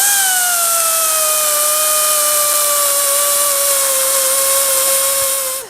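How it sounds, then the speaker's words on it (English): A grinding tool shears the top off a brake shoe rivet on a John Deere, a loud, steady high whine with a slowly falling pitch that drops away abruptly at the end. "you can use a grinding wheel or another grinding tool to just take the top"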